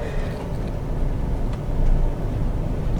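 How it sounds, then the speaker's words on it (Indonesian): A three-cylinder Mitsubishi Mirage engine idles with a low, steady thrum and slight uneven pulsing, close and continuous, no talking. "Jadi suara ciri khas mesin 3 silindernya sih terasa ya."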